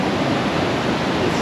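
Rushing river water through the Chasm in Fiordland, New Zealand, a loud, continuous broadband roar of churning whitewater heard close and alone.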